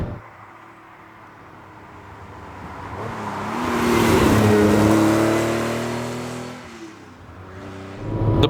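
A 1977 Ferrari 512 BB's engine drones while driving, swelling into a louder rev in the middle, then easing off before rising again at the end, heard from inside the car with no talk.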